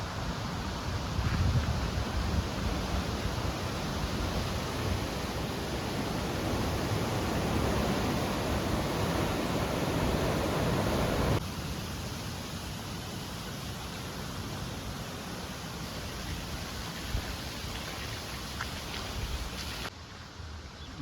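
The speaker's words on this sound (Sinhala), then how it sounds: "අමුණින් ගලාගෙන එන ජල ධාරාවල් පමණයි බලන්න වෙන්නේ." Water streams pouring from the Elahera anicut make a steady, broad rushing roar. The roar drops to a slightly lower level about halfway through and continues evenly with no voices.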